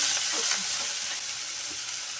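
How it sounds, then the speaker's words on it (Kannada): Beans, onion, greens and carrots fry in a pan with a dense, steady sizzle and faint stirring scrapes, close and continuous with no talking. "ಬೀನ್ಸು, ಈರುಳ್ಳಿ, ಸೊಪ್ಪು, ಕ್ಯಾರೆಟು ಎಲ್ಲ ನಾವು ಹಾಕಿಬಿಟ್ಟು ಇದನ್ನು ಸ್ವಲ್ಪ ಫ್ರೈ ಮಾಡೋಣ"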